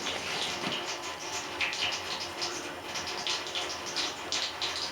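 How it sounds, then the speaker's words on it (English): Water draining out of the boiler of a 1910 Stanley Steamer steam car, rushing and gurgling out steadily, a continuous hissing gush with bubbling patter, close and fairly loud throughout. "That is the noise of water draining out of the boiler."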